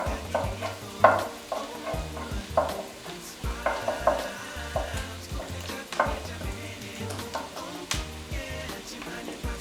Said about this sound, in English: As soon as your garlic and onion starts not really browning, but almost getting there